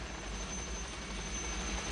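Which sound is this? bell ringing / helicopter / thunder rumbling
helicopter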